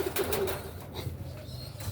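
Pigeons in a loft give soft, low cooing calls amid faint rustling and flutters, close but quiet over a brief moment.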